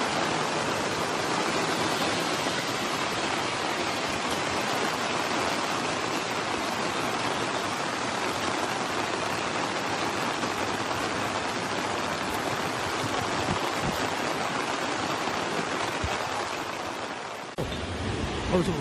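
Heavy rain pouring around the Seomjin River with rushing floodwater, a dense, unbroken hiss that stays loud and constant throughout before a brief disturbance near the end.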